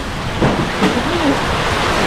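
Heavy rain pours down in the Philippines around a house taking in water, a dense, steady hiss and roar filling the whole stretch, with a voice briefly audible under it.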